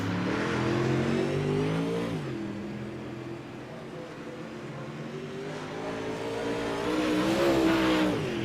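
Race cars accelerating and passing during a qualifying session, with a steady engine roar that swells, dips in the middle, then rises again, plus some tire noise and no talking.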